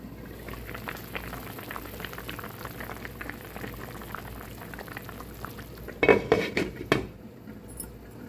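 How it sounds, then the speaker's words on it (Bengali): A pot of coral fish curry with coconut taro bubbles at a steady simmer, with a short burst of utensil clatter against the pot toward the end before the boil settles again. "এখন মাছটা একদম মাছ এবং নারিকেলি কচুটা সিদ্ধ হওয়া পর্যন্ত এবার রান্না করে নেব।"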